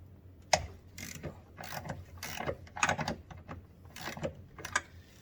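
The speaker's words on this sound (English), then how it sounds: "I like just to break them off a little bit with regular ratchet." A hand ratchet clicks in quick bursts while loosening bolts on a Ford Escape brake booster, close and crisp, with short pauses between the bursts.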